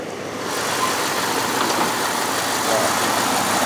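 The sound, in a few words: pickup truck 5.9 liter engine idling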